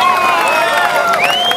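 A beach crowd cheers and shouts at the Rip Curl Pro surfing contest at Bells Beach in 2011, a brief, loud burst of overlapping voices and whoops.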